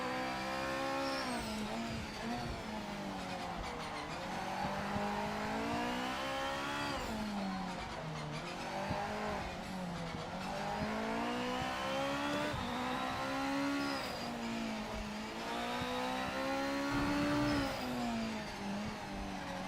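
A GT500 race car engine in the Project Motor Racing video game revs hard through repeated gear changes, a loud, steady in-cockpit whine that rises and falls in pitch cycles.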